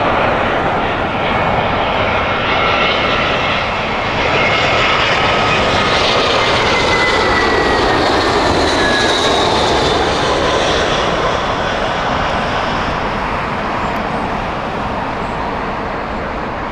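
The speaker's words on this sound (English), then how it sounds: "There she is, Chicago flight. There we go, Dreamliner." A Boeing Dreamliner on the Chicago flight arrives at Heathrow Airport, its jet engines roaring steadily and loudly overhead as it passes, with a rising then fading whine and no talking.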